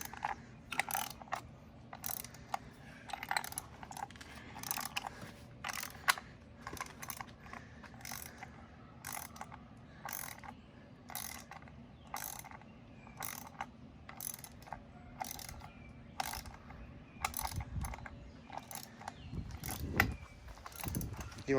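Ratchet clicking steadily in rapid repeated strokes while turning a bolt on a 1977 Toyota Land Cruiser FJ40 during side cover gasket work, close and crisp, with a low hum beneath and no talking.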